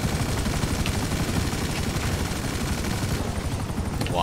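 A helicopter in the video game GTA V keeps up a steady rotor and engine drone for the whole stretch, loud and constant, with bursts of gunfire mixed in.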